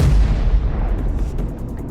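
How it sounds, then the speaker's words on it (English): Explosion aboard the Apollo 13 spacecraft as a sound effect: a heavy low boom that rumbles and slowly decays over about two seconds, loud and close with no voices. "there's been an explosion."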